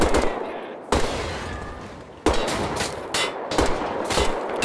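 Gunfire in Wolfenstein: The Old Blood on Uber difficulty, moving from docks to a castle interior, with several loud bursts of shots separated by short gaps over a steady background.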